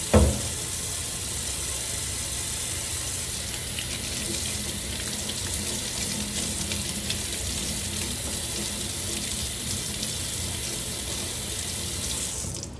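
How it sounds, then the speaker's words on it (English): Water from a tap runs steadily into a sink, rinsing out acrylic paint brushes, a constant close hiss that starts abruptly and keeps going alone to the end. "you can pour it down the sink and then rinse it really well"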